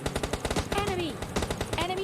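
Rapid bursts of automatic gunfire in PUBG Mobile Lite, a rattling string of shots mixed with game effects and a faint voice beneath.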